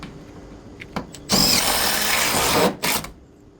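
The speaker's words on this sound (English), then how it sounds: "It's now time to put the batten screws into the rafters" Power driver sinking batten screws through an insulated roof receiver channel into timber rafters: a few faint clicks, then one loud sustained whirring burst of about a second and a half, followed by a short final spurt.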